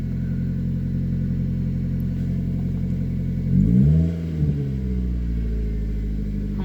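A 1999 Mazda Protege engine, slow to start, idles with a steady low hum, briefly revving up midway before settling back to an even idle.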